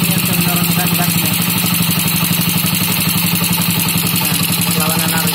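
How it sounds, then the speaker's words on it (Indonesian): A Suzuki Shogun motorcycle engine idles steadily and loudly up close after a carburetor adjustment, with a fast, even clattering pulse throughout. "Ini namanya putaran langsam. Nah, ini sudah putaran langsam sekali atau stabil."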